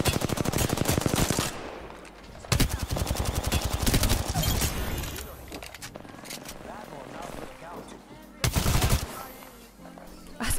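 Rapid automatic gunfire from Apex Legends rattles in dense bursts, loud and close, with brief pauses between volleys while a player talks over it.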